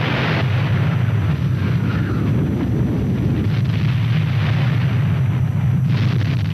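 A continuous roaring rumble of comet and meteorite bombardment explosions in an animation of early Enceladus, a dense low booming wash that holds steady and loud throughout with no pauses and no voices.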